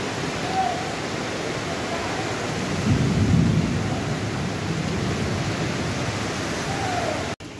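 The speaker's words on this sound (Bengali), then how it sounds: "অনেক রাতে যদি এরকম বৃষ্টি হয়" Heavy night rain pours steadily with a low rumble of thunder swelling near the middle, a continuous dense wash with no voices.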